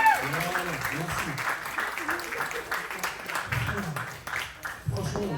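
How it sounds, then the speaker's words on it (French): Audience clapping at a Bollywood birthday party in Paris, a steady wash of applause running under loud, overlapping voices and chatter for the whole stretch. "Un peu d'applaudissements pour eux."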